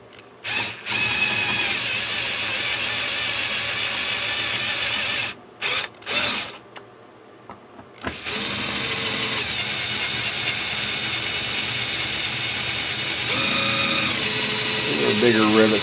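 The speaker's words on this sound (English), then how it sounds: "may have to get a little bigger drill." A power drill bores out rivets on a Radio Shack regulated power supply case, whining loudly in long sustained runs with brief stops and restarts, pitch shifting as the bit bites, while someone talks between bursts.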